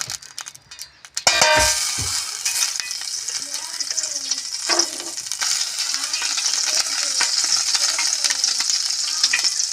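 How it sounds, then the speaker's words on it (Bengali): Butter melts, sizzling and crackling steadily in a hot wok, a bright continuous hiss with a few clinks of metal near the start. "কড়াইয়ের মধ্যে আমি বাটার দিয়ে দিচ্ছি।"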